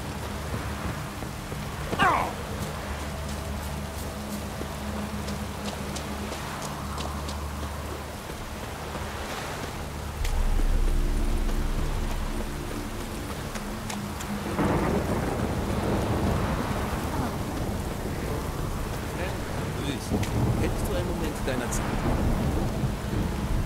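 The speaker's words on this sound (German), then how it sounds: "Sturm, verdammt." A thunderstorm in The Witcher 3 rolls on with steady rain hissing throughout, a sharp crack early, then deep rumbling thunder swells and lingers, with no talk over it.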